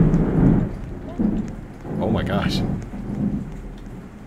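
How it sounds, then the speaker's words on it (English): Thunderstorm effects in the Roblox game Lumber Tycoon 2: rolling thunder rumbles swell and fade over steady rain, while a person briefly exclaims partway through. "Thunderstorm. Sound effects."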